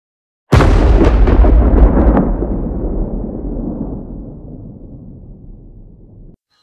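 A single loud thunderclap cracks sharply, then rumbles deeply and fades slowly over several seconds before cutting off.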